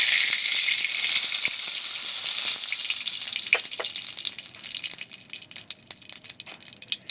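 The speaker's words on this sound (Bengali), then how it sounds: "কড়াইতে আবারও সরষের ফুল দিয়ে দিলাম" Mustard seeds sizzle and crackle in hot oil in a wok, left after frying fish, with a dense steady hiss and sharp popping ticks toward the end, close and fairly loud, no voices.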